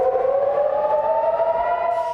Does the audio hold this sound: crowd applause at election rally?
no